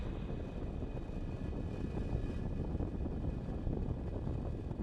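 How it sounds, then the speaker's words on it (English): A SpaceX Falcon 9 rocket lifts off with a Starlink payload, a steady, dense, low rumble heard from a distance, even and unbroken for several seconds with no voices. "Ignition. And liftoff of the Falcon 9 and Starlink."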